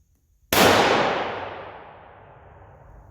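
A single sharp .17 Remington rifle shot fired from an unsteady rest, with a 1971 Remington rifle in stock form, cracking loudly and then ringing out in a long fading echo, with no voices.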